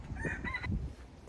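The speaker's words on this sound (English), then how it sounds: "These roosters might be my favorite thing on the planet." A rooster in Key West, Florida crows once, a short, strained call close by, with outdoor background noise.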